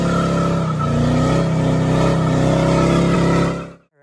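Chevy square body truck engine running loud and close, a steady deep drone with rising revs that ends abruptly near the end.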